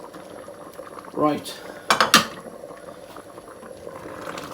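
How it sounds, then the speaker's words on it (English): A bean dish with olives, lemon and chili bubbling in a pot, a gentle steady simmer broken by a few spoon clinks and stirring knocks against the pan, with a brief spoken word. "give it a little stir and let it cook away"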